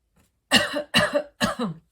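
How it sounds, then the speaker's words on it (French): Three harsh coughs in quick succession, close and fairly loud, each a short burst with a brief pause between. "Et qui me fait tousser"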